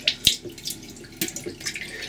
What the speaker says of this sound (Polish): Ten mały kran i tutaj od niego jest pompka.